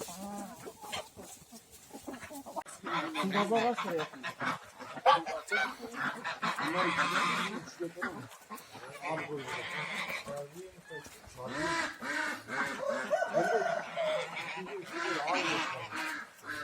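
Geese and ducks in a village flock honk and call repeatedly, fairly close, with bursts of cackling mixed among background voices and talk.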